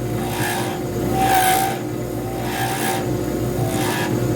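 An acrylester diamond painting pen blank is ground down on a lathe, a rhythmic back-and-forth rasping scrape repeating about once a second over a steady motor hum, close and fairly loud.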